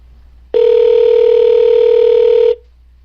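A steady telephone dial tone, heard on the line while placing a live call, sounds loud and continuous for about two seconds, then cuts off cleanly, with no voices over it.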